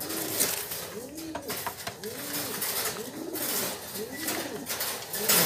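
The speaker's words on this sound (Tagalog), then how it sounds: "galit na galit yung isang kalapate natin" An agitated street-fighting pigeon coos repeatedly in close, rhythmic, throaty rolls, one after another with barely a pause, over faint background noise.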